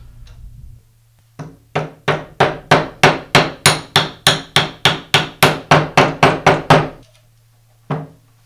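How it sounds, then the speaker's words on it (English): Sharp metallic hammer taps drive a bearing onto the armature shaft of a Makita grinder through a socket on the inner race, about sixteen steady evenly spaced blows close up, then a pause and one last tap. "I'll seat the bearing back onto the armature shaft using a socket that has a diameter the same as the diameter on the inner bearing race"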